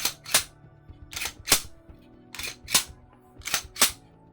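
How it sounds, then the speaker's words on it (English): A handgun slide is racked repeatedly with double-stack magazines being discussed, sharp metallic clacks in close pairs, about eight loud near clicks with no talking. "racking your gun means doing this"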